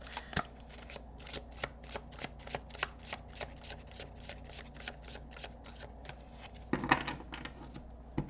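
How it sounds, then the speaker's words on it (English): Tarot cards are shuffled by hand in a quick series of crisp, evenly spaced riffling snaps, close and clear, ending in a denser flurry of card handling. "I'm going to give the cards a quick shuffle"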